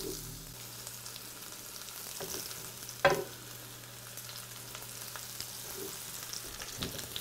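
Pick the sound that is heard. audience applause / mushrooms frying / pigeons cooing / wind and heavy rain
mushrooms frying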